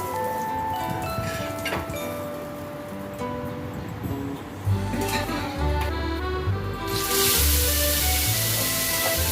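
Eggplant slices fry in hot oil with a soft sizzle under clinking and tonal kitchen sounds, then a loud, bright hiss surges in near the end, nearby and steady; no speech is heard.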